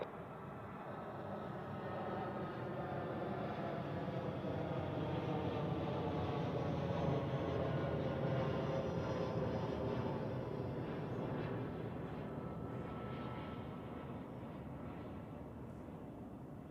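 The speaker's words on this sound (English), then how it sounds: "That's another butter smooth touchdown there for Aer Lingus." An Aer Lingus airliner touches down on runway 14 at Zurich, its steady broad engine roar and rushing noise rising and easing gradually, fairly close and uninterrupted, without voices.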